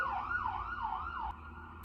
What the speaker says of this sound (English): we live next to a hospital, so we hear lots of sirens.